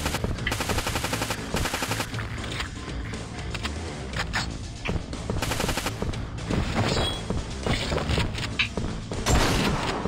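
MP5 submachine gun in the mobile shooter Fatal Raid, rapid bursts of automatic fire repeating in short volleys, loud and close, with scattered thuds and impacts between them.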